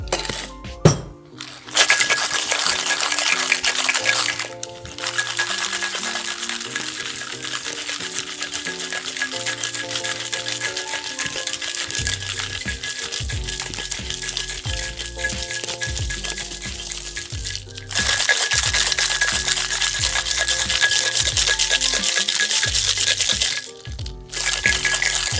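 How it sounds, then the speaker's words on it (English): A cocktail shaker filled with ice is shaken hard for a pisco cocktail, with long bursts of rapid rattling and clinking broken by short pauses, loud and close. "And then we're going to shake this once again."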